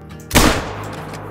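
A single sharp rifle shot in a hunting video game set on the Vurhonga Savannah, loud and close with a quick decaying tail, then quiet ambience.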